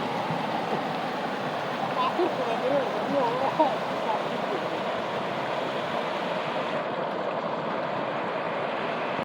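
A strong stream current rushes steadily on a waterfall trek at Mahamaya and Boaliya, a constant watery roar with people talking over it for the first half.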